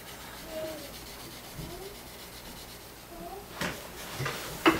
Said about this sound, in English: I've recently started using 4/0 steel wool just to do a quick little touch-up polishes like this